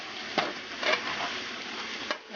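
Seasoned home fries sizzle in a pan under a steady frying hiss, with a few scraping knocks as a utensil stirs them, close and continuous.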